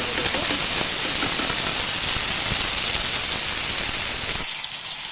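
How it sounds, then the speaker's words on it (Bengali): Thankuni leaves tossed into a pan of fried onions give a loud, steady, high hiss of sizzling steam that runs continuously and then drops away abruptly near the end. "পেঁয়াজটা ভেজে নিয়েছি এবার থানকুনি পাতা দিয়ে দেবো"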